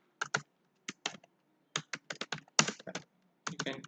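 Keys tapped on a computer keyboard to type a name, quick irregular clusters of crisp clicks with short pauses between bursts, close and alone.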